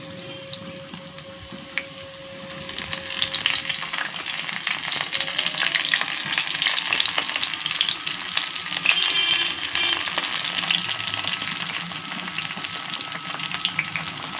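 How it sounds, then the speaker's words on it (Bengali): Battered eggplant slices drop into hot oil in a wok and sizzle. A quiet start swells into a loud, continuous crackling fry that holds steady to the end. "এই হাতে করে অল্প করে নিয়ে আমি এবার কড়াইতে ছেড়ে দেবো।"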